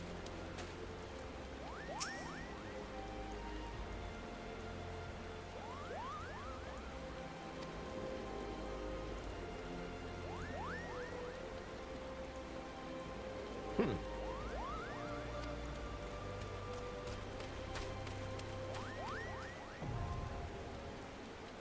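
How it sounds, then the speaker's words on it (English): Steady rain pattering on surfaces in Overwatch, a soft continuous hiss with occasional bird-like chirps and a faint thud partway through. "Hey, look, it's raining."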